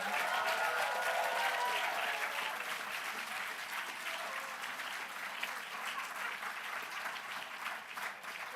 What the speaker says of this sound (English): can we please have one round of applause for all of our finalists, all of our winners for tonight